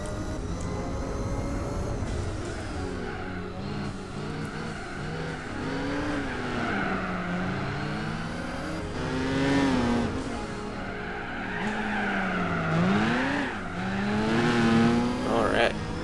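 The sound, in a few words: Nissan Skyline race car driving in Gran Turismo 4 video game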